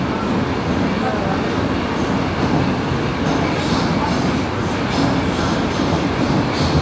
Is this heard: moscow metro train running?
yes